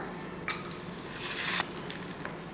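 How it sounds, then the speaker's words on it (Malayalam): Pappadam frying in hot oil, a soft continuous sizzle with a few sharper crackling bursts and light clinks, close and fairly quiet without talk. "നമുക്ക് കുറച്ച് പപ്പടം കാച്ചി എടുക്കാം"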